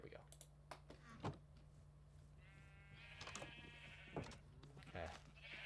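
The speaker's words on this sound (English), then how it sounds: "We probably got a sheep ready to get sheared." Sheep in a blocky building game bleats twice in short wavering calls, set over quiet keyboard clicks and a low steady hum, with a voice talking briefly.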